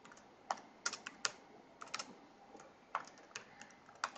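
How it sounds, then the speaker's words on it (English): Someone types commands on a computer keyboard in quick irregular clusters of sharp key clicks, close and fairly quiet, with short pauses between bursts. "I'm just going to keep going and typing a few more commands"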